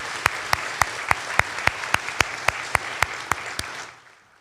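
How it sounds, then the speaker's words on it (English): Applause for nursing students and faculty at a pinning ceremony, a crowd clapping steadily with one close, sharp clap repeating rhythmically above it, then fading out. "let's give a round of applause to those students behind me and the faculty for all their hard work these last 2 years"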